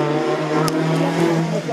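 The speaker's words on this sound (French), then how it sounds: "Gros passage d'Alexis Flambard sur cette magnifique Fiesta." A Ford Fiesta race car roars past at speed at a hill climb, with a steady low drone and a brief sharp burst partway through, over crowd noise and a commentator's voice.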